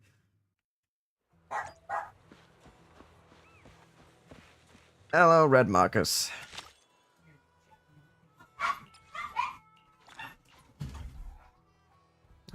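Dogs barking in the video game Zenless Zone Zero, a few sharp bursts of barking amid footsteps and game effects, with a voice speaking briefly between them.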